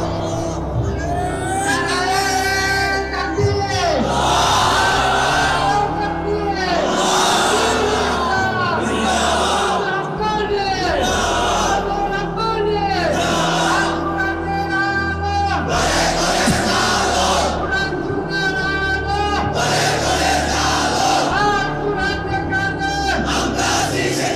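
A large crowd at a Bangla Islamic sermon gathering chants slogans and takbir in loud rhythmic unison, with repeated surging call-and-response shouts sustained throughout.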